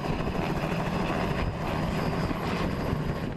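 A helicopter carrying revered church icons on a 60-kilometre flight near Zvenigorod gives a steady, loud rotor and engine roar that holds without a break, with no voices.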